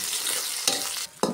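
Onions dropped into hot oil with torn dried red chilies, nigella and cumin seeds, frying in a loud, continuous sizzle with two sharp bursts of stirring crackle, close up and without talk.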